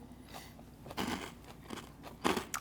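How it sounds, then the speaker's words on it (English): Crunchy croutons in a chicken Caesar salad are chewed close to the mouth, with a few distinct crisp crunch bursts between quieter chewing and no talking. "The croutons are nice and crunchy, but they're not too crunchy."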